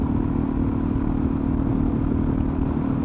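Supermoto motorcycle riding along a back road, its engine a steady, loud, continuous drone throughout with no clear revving changes.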